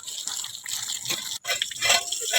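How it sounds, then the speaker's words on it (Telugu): Water sprayed onto a house wall before cement plastering makes a steady hissing gush, close and moderately loud, with a brief break partway through. "తినేసిన తర్వాత గోడకి అయితే నీళ్ళు పెట్టేసాము"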